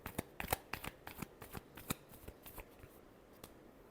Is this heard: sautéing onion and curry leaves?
no